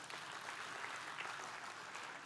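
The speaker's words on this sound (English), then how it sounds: "A round of applause for all the speakers on stage." Faint, distant audience applause for speakers on stage at a Build with AI tech event in Bengaluru, a soft continuous patter of clapping across the short clip.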